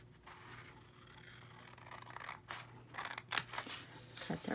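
Scissors cut paper at an angle for a pocket folder, giving close, quiet snips and crisp rustles that grow a little louder toward the end, with no talking.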